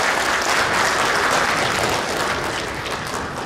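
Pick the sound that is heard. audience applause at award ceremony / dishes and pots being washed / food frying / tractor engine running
audience applause at award ceremony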